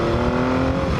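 1980 Yamaha XS850 Special motorcycle pulling away from a stop sign, engine droning steadily and close with a sustained tonal hum and no pause.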